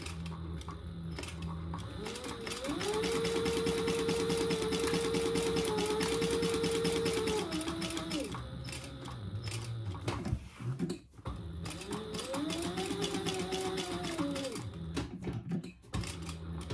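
A sewing machine runs close by as it stitches the lining seam of a fabric wristlet. Its motor hums in two sustained runs with a brief pause between them, over a quiet background and no speech.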